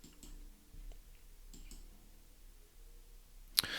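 A computer mouse gives a single sharp click near the end after a few quiet ticks, close up over a low steady background hum, with no talking.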